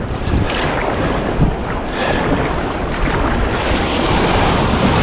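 Small ocean surf washes around a paddleboard being paddled out from shore, a loud continuous wash of breaking water mixed with strong wind buffeting the microphone, no voices.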